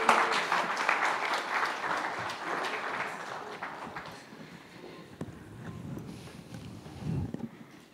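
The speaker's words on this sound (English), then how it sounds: "Can we have one more round of applause?" An audience at a film screening gives a round of applause, loud at first and gradually thinning into scattered claps and murmuring.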